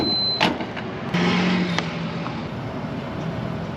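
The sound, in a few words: van driving away from a gas station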